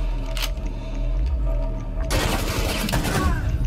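Gunfire in a tactical shooter match, a dense burst of rapid shots that swells from about two seconds on, loud and close over game ambience with faint voices underneath.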